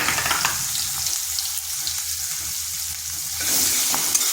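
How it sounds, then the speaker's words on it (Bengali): Onions with turmeric frying in a pan for a mushroom dish, giving a steady hissing sizzle up close that drops briefly, then swells louder near the end, no voices heard. "পেঁয়াজটাকে একটু ভেজে নেব"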